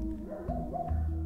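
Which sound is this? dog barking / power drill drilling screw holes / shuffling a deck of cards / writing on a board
dog barking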